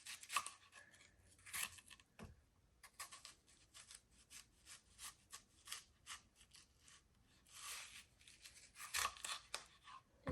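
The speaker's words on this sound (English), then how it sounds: "I will go through and cut the other way to dice up the onion" A knife dices an onion on a home kitchen cutting board, making a run of crisp, close chopping and slicing strokes in an uneven rhythm with short pauses and no talking.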